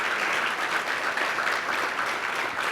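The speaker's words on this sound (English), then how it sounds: "I want to give a round of applause to the ladies and the gentlemen that took part for our student presentations" An audience applauds student presentations at a Martin Luther King Jr. Day remembrance event, a dense, even wash of many hands clapping throughout, with no talking.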